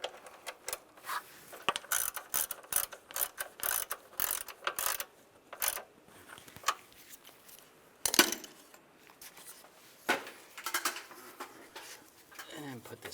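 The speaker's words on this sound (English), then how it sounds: "Put the nut on and we'll tighten that down." A ratchet tightens a nut on the cylinder deactivation manifold cover of a 2007-2013 Chevrolet Silverado 1500, quick close bursts of clicking pawl strokes in uneven runs, with soft speech in places.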